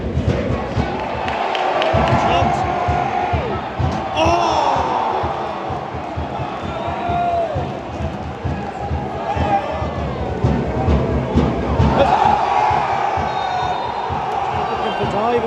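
Football fans in the stands at a Servette FC versus FC Lugano match make a loud sustained din of crowd chanting and cheering, with swelling surges, under a commentator's voice.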